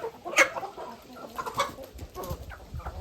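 Ducks and a drake quack and cluck in short bursts around a farmyard, with a sharper call early on and softer calls scattered after.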